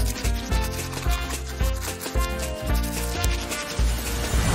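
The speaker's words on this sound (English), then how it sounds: "Now they'll need a good brushing. Get scrubbing." A brush scrubs a toy's teeth in a steady back-and-forth rubbing rhythm, with short rasping strokes close up and loud, and music playing underneath.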